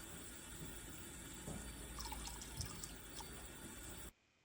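Water runs steadily into a household sink for a few seconds, with a quiet, close splash and faint drips before it stops abruptly.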